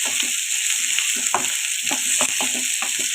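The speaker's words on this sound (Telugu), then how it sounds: "ఆయిల్ వేసుకొని వేయించుకోవాలి." Ginger frying in oil in a pan over a medium flame, a constant bright sizzle with soft stirring scrapes and taps scattered through, close and loud with no talking.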